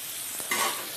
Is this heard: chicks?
no